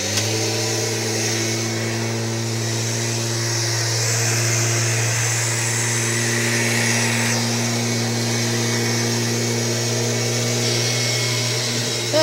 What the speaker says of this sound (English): So this vacuum here is about 22 years old.